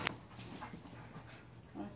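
A golden retriever mix pants quietly and steadily at close range, with soft rhythmic breaths and a faint whimper near the end, and no talk over it.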